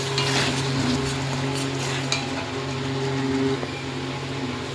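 Sour yogurt cooking into fried spice paste in a pan for catla fish kalia, giving a steady, fairly loud sizzle over a low continuous hum, with occasional faint clinks.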